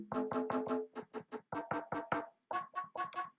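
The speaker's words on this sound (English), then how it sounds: "you want to find a kit that you have that has bongos in it." Bongos from a drum kit play a quick beat of short, dry hits at three pitches, low, middle and high, in an even rhythm with brief pauses, sounding alone and fairly quiet.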